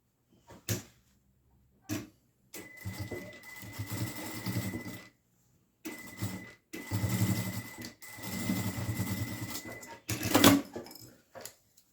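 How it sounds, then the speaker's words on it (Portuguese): A domestic sewing machine stitches fabric binding for a small rounded zip pouch in short bursts: two quick taps, then longer whirring runs separated by pauses, close and clear. "Faz uma costurinha daqui até aqui, iniciando e finalizando com o retrocesso"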